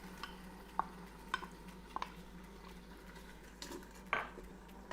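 Frozen celery added to a beef stew pot with onions, quiet sizzling under a few sharp metallic clinks of a utensil against the pot, spaced irregularly.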